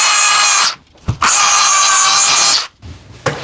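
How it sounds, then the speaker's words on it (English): A belt sander works on a wooden shelf in two loud sustained grinding runs, a short one and then a longer one, separated by brief pauses and clatter. "Need to belt sand this a little bit."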